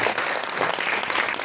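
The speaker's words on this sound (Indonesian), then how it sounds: "Tepuk tangan buat Tuhan dulu." Congregation clapping hands during a Pentecost Sunday church service, a dense continuous burst of applause filling the room, loud and close.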